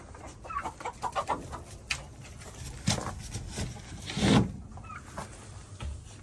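A farm hen clucks in short, uneven bursts near a nesting spot, mixed with rustling and scuffling noises, moderately close with no talking.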